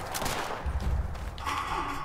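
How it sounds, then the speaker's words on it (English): Fallout 76 gunfire hitting the player, a short cluster of shots and impacts over steady game noise, with no talk. "I'm still getting shot."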